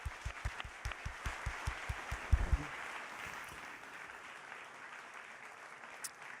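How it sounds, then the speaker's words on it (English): A modest audience at a tech meetup claps for the speakers, starting with a few sharp, rhythmic claps that spread into brief, fairly quiet applause and then fade. "Just have one last big round of applause for our speakers."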